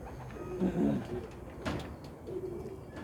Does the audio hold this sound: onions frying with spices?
no